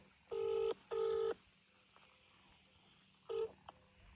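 A mobile phone dials a call: two longer keypad tones in quick succession, a pause with faint clicks, then a third short tone and a small click, close and clear over quiet background hum.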